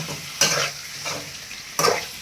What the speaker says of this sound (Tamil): போட்டுட்டு நல்லா வந்து கலந்து விட்டணும்